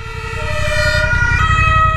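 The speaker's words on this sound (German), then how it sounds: "Und jetzt kommt noch ein Rettungswagen." A wailing ambulance siren with steady rising and falling tones over heavy road rumble, heard from a motorcycle, growing louder as it passes close by.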